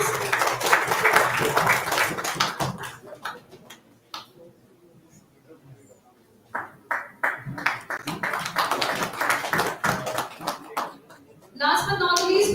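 Audience applause at an industry-institution summit award ceremony, honoring an engineering excellence award recipient, with bursts of clapping mixed with talking voices and a brief lull midway.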